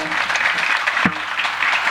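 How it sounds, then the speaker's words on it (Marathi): Clapping from a crowd at a devotional Marathi kirtan talk, a steady dense patter of many hands held at an even level for about two seconds, with a single sharper knock near the middle. "काकांनी एकदा टाळ्या वाजवा"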